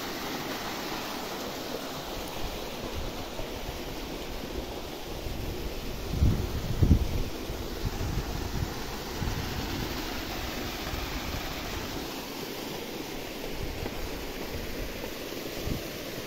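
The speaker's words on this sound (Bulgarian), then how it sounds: "Чуковския водопад или каньон." Rushing water at the Chukovski waterfall, a canyon with old-made weirs, forms a steady broadband roar from start to end, with a slight swell near the middle and no speech.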